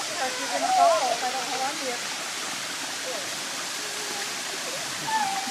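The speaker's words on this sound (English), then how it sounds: "waterfalls." Small tropical waterfall high above the ocean in Hawaii, a steady broadband rush of falling water filling the whole clip, with a few brief voices rising over it near the start and end.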